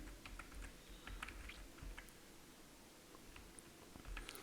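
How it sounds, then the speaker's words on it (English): Typing on a computer keyboard while entering grade values during a Python Matplotlib lesson, with soft, irregular key clicks scattered across the clip over a low background hum. "as we are now typing the grade"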